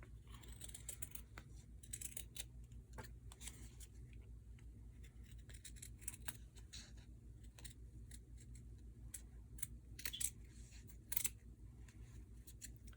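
Scissors snipping through two stacked pieces of felt at once, for making ear bud holders: a close, quiet run of irregular crisp cuts and short scraping snips, with no talking.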